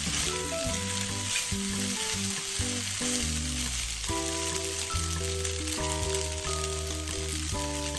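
Crab sticks sizzle in a frying pan while egg pasta cooks, a steady close frying hiss under louder tuneful background music throughout.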